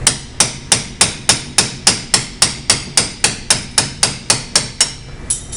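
A hammer strikes a cold chisel on metal in a steady rhythm, about fourteen sharp, ringing blows evenly spaced, loud and close, with no talking.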